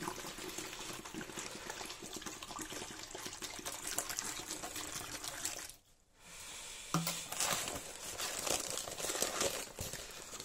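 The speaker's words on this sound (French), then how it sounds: "Alors, je mets 1 litre d'eau." Water poured steadily from a container into a bucket of dry monocouche render powder, a continuous close splashing rush with one brief pause partway through, no talk.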